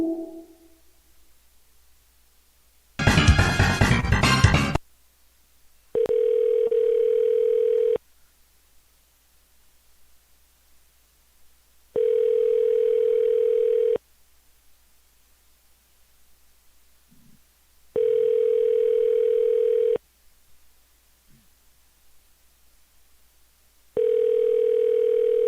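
Telephone ringback tones heard while calling a number: a burst of loud noise, then four evenly spaced steady tone blocks about two seconds long, separated by silence, with no talk.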